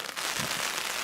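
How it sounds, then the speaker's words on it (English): Steady rain pours onto a tarp at a hammock camp in the forest, a dense continuous patter with scattered crackling drops, close and fairly loud, with no talking. "it's definitely raining now"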